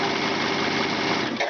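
A sewing machine fitted with an edge joining foot stitches in a fast, even, whirring buzz, close and loud, stopping abruptly near the end.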